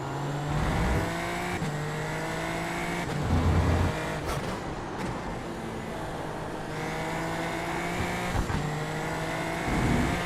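LMP3, GT4 and TCR race cars lapping Suzuka in iRacing, engines droning steadily with rising and falling pitch as cars pass, several shifts and revs heard, moderately loud with no talk.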